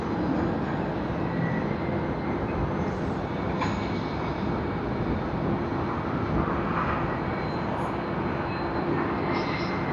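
A Malaysia Airlines Airbus A330-900 arrives at Sydney Airport from Kuala Lumpur. Its engines make a continuous, fairly loud broadband roar that holds steady throughout, heard from outdoors at some distance.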